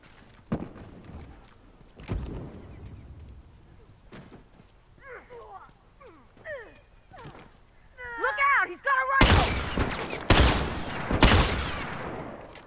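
Gunfire in The Last of Us game: several sharp shots scattered early, then a loud cluster of heavy blasts near the end, with game voices chattering in the middle.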